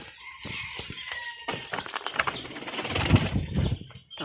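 Pigeons cooing softly nearby with a brief flutter of wings, low throaty calls rising toward the end.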